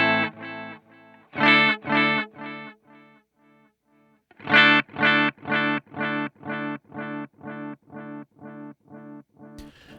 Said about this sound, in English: we are at type 3, which is digital delay. So that's the blue light, and it's like a digital echo.